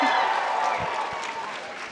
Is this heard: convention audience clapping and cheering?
yes